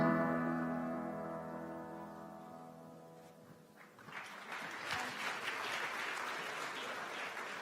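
Hesitant audience applause at the UN Youth Climate Summit: a sustained tonal sound fades over the first few seconds, then scattered, moderately loud clapping builds from a sparse crowd and continues steadily to the end.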